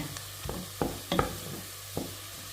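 Onion frying in butter in a pan while being stirred, with a few soft scraping stirs over a faint, low sizzle, close and quiet.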